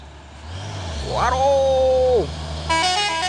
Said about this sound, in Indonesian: Ini ada lagi truk Hino Lohan ini ya.